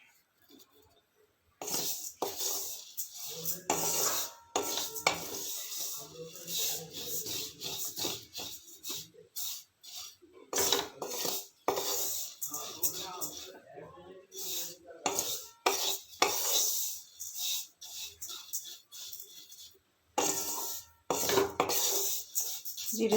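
Cumin seeds dry-roasting in a pan give repeated close scraping and rattling strokes from stirring, grainy seed rustles with brief pauses between bursts, and no oil sizzle.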